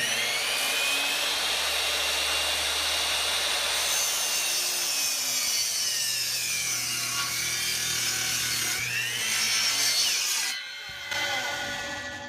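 A power saw bites through a cedar 4x4 post for a garden box with a loud, steady buzzing whine that shifts pitch partway through, then briefly cuts out near the end before resuming.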